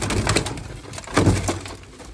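Pigeons in a home loft, with soft cooing and wing and body shuffling rising in a couple of louder bursts over a busy, close background rustle.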